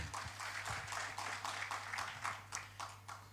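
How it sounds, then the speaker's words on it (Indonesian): A church congregation claps together in praise of God, a steady run of rhythmic clapping bursts over a constant low electrical hum, moderately distant with no voices over it. "Tepuk tangan panjang buat Tuhan"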